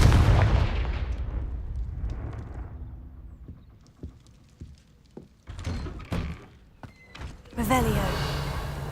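A Confringo blasting spell cast in a video game, opening with a loud explosive burst that rumbles away over a couple of seconds, followed by scattered thuds, knocks and clatter, with a voice over the sounds.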